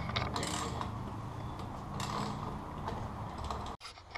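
Ratcheting wrench and fastener clicks while bolting down the hot-side intercooler clamps on a Ford Fiesta ST, a steady run of small mechanical clicks and turns close by, cut off by a brief drop near the end, with no talking.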